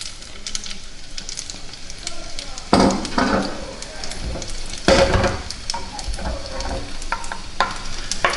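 Pasta frittata with speck and scamorza fries in a pan with a continuous sizzle, while a few louder bursts of scraping and clatter from handling the pan cut through close by.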